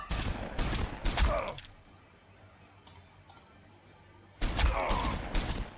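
Ork units fire regular volleys in the Warhammer 40,000: Sanctus Reach strategy game. Two loud, crackling salvos of overlapping shots open and close the passage, separated by a stretch of low, quiet ambience.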